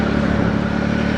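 A 2019 Triumph Speed Triple RS 1000cc motorcycle engine drones steadily up close, a brief unbroken rumbling growl with no talk over it.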